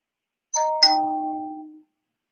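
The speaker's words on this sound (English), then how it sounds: "I'm gonna have to take this ding dong off my phone. Sound like a doorbell." A phone notification tone shaped like a doorbell ding-dong: two bright chimes in quick succession, the second ringing out and fading over about a second, loud and alone in a quiet room.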